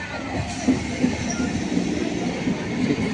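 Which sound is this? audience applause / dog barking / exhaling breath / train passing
train passing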